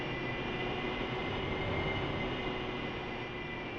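A military jet taxis toward the runway in a flight combat game, its engine giving a steady, dense roar with a high whine on top, loud and unbroken with no talk.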